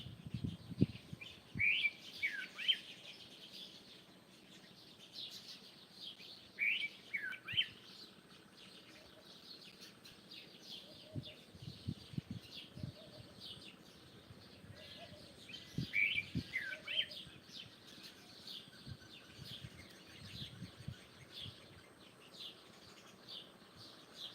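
Bursts of melodic nightingale song come and go, with trills and whistled phrases separated by brief pauses. Soft and distant, over a quiet outdoor hush at sunrise.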